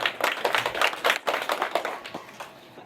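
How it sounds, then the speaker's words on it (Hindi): A crowd claps in welcome at an outdoor ceremony where a statue of Dr. B. R. Ambedkar is garlanded, with uneven bursts of hand claps rising and falling over a few seconds before thinning out. "आप लोग जोरदार ताली से स्वागत करेंगे।"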